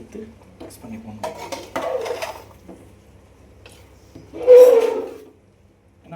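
A metal ladle scrapes and clinks against a pot while mixing mushroom veg dum biryani from the sides, a few close knocks and one louder scraping stir, with faint background hum.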